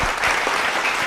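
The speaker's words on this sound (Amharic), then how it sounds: "እሺ አደ አጨብጭቡ።" An audience claps for an invited guest, a brief burst of dense, steady applause from a crowd that holds at an even level throughout.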